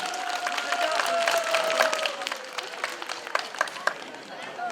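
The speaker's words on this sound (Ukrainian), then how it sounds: "оплески Ірині" A small crowd at a Trinity (Green Holidays) celebration claps in a scattered burst of applause, with a voice speaking over it early on and the clapping tapering off.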